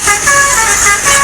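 A tour bus on an Indonesian road sounds its multi-tone horn up close, a loud sustained blare with the engine rumbling underneath.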